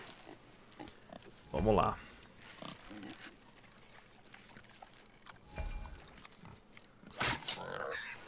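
Wild boar in God of War lets out a few short, rough grunts and snorts at moderate distance, scattered between quieter stretches, while someone speaks in Portuguese over the game sounds.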